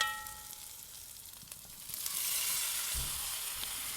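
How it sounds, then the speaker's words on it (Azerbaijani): Chopped liver and onions fry together in a hot pan, a steady close sizzle that swells louder midway, with a few soft stirring knocks and no voices. "İndi isə soğanın içərisinə əlavə edib biraz qovuracağım"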